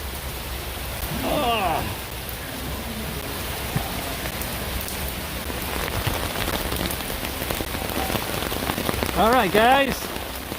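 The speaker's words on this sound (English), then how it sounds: "We are under an umbrella in the pouring rain, leaving the Harambe train station. Absolute downpour." Heavy rain drums steadily on an umbrella in a downpour outside the Harambe train station at Animal Kingdom, Walt Disney World, a dense continuous hiss with a person speaking briefly.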